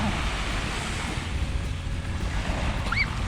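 Sea waves at Samila beach in Songkhla, Thailand, wash steadily as a continuous broad roar of surf mixed with wind noise, with a brief high whistle-like tone near the end.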